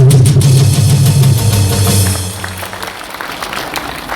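Audience applause at a political rally at the 63 Building, a loud, dense burst of clapping from a crowd that fades out after about two seconds, leaving a quieter room.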